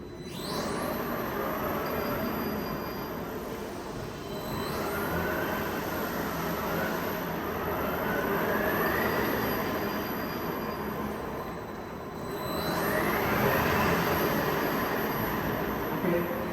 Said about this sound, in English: we release the handbrake, and we slowly step on the accelerator